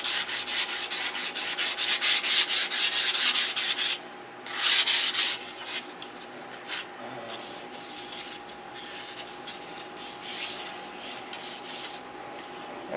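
Close, steady rubbing strokes of fine-grit sandpaper working over glossy top coats on a new build, running in a continuous rhythm that pauses briefly around the fourth second, then resumes more softly and intermittently.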